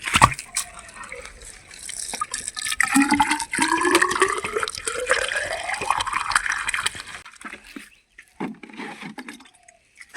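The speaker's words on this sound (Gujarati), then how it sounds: "આ રીતે પાઇપ થ્રુ એક દિવસના અંતરે દરેક કલમને પાણી આપીએ છીએ" Water gushes steadily from a pipe onto young Kesar mango grafts on a farm, a loud, continuous splashing and rushing flow that thins out and tapers toward the end.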